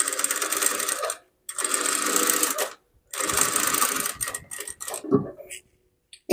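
A sewing machine runs in three long bursts, stitching the lining of a blouse, with short pauses between runs and a few clicks near the end; no one speaks.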